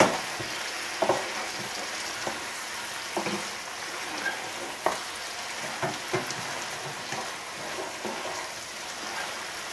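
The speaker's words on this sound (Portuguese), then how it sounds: "Vou mexer, senão o ovo vai cozer." Egg stirred into rice with chicken fillets in a pan gives a soft, steady sizzle, broken by scattered clinks and scrapes of a utensil at irregular intervals, close and moderately quiet.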